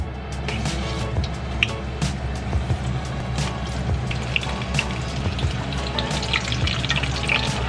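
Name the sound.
onion tempura frying in oil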